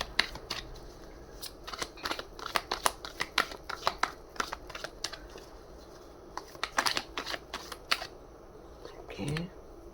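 Tarot cards are shuffled and drawn in a rapid run of crisp riffling flicks and slaps close to the mic, with short pauses between bursts and faint background noise.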